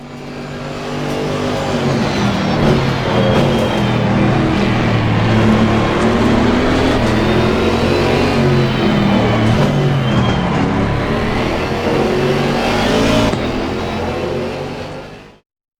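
GT4 race cars roaring in Assetto Corsa Competizione, a loud, continuous engine note that rises and falls through gear changes and revs across the whole stretch, heard alone with no voices.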